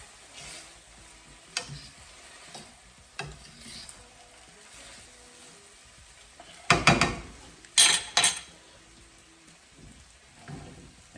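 Pasta being stirred and tossed in a pan with tongs, soft sizzling under intermittent scrapes and clinks, with a few sharper clatters in the middle.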